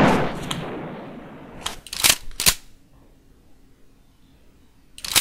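Gunfire in the Call of Duty video game: a few sharp, loud shots in separate bursts, with a quiet gap before a final shot; no one speaks.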